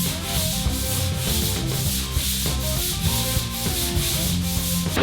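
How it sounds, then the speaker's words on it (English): Steady, continuous abrasive sanding of plaster on a brick wall during crack repair, a rough rhythmic rubbing close by and loud, with no voices. "after doing this preliminary sanding"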